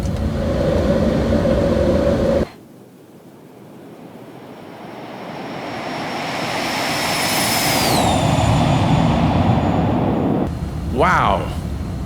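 An Aerobask Phenom 300 business jet takes off in the X-Plane 11 flight simulator: a loud, steady engine roar with a high turbine whine that sweeps down, then a short burst of mechanical noise near the end as the landing gear retracts.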